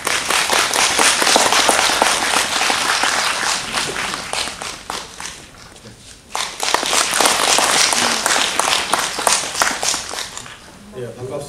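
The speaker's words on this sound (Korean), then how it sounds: "큰 박수로 맞이해 주십시오." An audience claps loudly to welcome a lecturer at a classical humanities lecture in a hall, a dense sustained wash of applause that dips briefly midway and then swells again.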